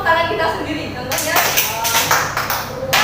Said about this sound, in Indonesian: berarti kita harus menepuk tangan kita sendiri